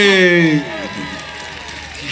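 A studio audience claps for a singer at a Karachi talk-show event, a dense burst of applause lasting about a second and a half just after a voice trails off.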